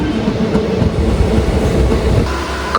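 A passenger train runs at Kottikulam railway station in Kerala, a loud, close, continuous rumble with rhythmic clickety-clack of wheels over rail joints throughout.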